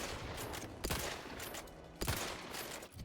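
Gunfire from a video-game weapon, with two bursts of shots standing out over a dense, steady background of game noise.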